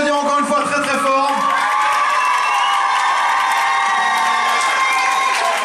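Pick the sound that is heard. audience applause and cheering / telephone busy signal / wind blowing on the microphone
audience applause and cheering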